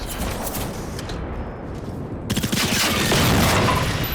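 Shotgun fire in the video game Generation Zero, heard as a dense run of loud, sharp blasts with the din swelling louder in the second half.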